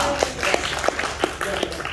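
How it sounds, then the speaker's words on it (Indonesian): A group in a morning class gives a short round of applause, a brief burst of scattered claps over a couple of seconds, close and moderately loud. "Tepuk tangan dulu dong."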